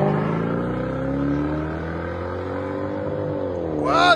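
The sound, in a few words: Lexus LS460 accelerating with Dynamax race bullet exhaust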